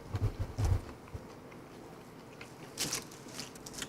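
A few close, crisp crunching bites into karaage, Japanese fried chicken, at the start, followed by quieter chewing and faint crackles against a soft background hum.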